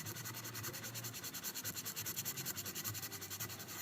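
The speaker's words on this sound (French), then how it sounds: "Je passe un peu partout avec le même grain, puis je repasse avec un autre, puis un autre." Sandpaper rubbing steadily over a carved wooden spoon, a continuous close scratchy rasp with quick, even back-and-forth strokes and no talking.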